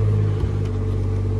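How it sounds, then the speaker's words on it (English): A BMW 440i Gran Coupe M Sport engine idles close by, a steady low hum with strong bass tones and a brief dip in the middle. "As you can hear, Peters has started the engine for me."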